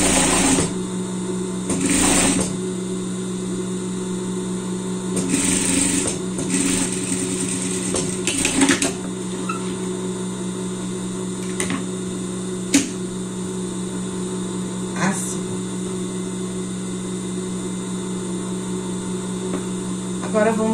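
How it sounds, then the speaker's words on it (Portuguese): Overlock and straight-stitch sewing machines run on a garment seam, a steady mechanical whir with bursts of faster stitching early on and a few sharp clicks, with a quiet voice now and then. "Mesma coisa se você quiser fazer a costura na overlock e depois rebater aqui na reta,"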